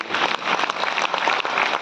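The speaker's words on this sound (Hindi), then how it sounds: "तालियां मेरे लिए बजाएं" Audience at a motivational talk in a hotel hall applauding, a steady, dense burst of clapping that carries loudly and evenly through the short moment.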